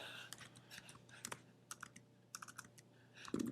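Typing on a computer keyboard, with bursts of quick key clicks and short pauses between words, quiet and close, with no talking.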